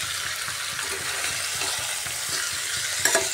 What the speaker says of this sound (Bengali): এভাবে ভালো করে নাড়িয়ে নিচ্ছি আলু পেঁয়াজ